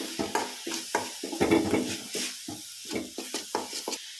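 Coconut burfi mixture with cardamom powder is stirred in a pan, producing rhythmic scraping and sticky sizzling strokes, roughly a dozen distinct spoon passes in an uneven beat, close and clear with no talking.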